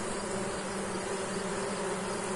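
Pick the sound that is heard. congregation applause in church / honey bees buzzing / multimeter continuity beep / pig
honey bees buzzing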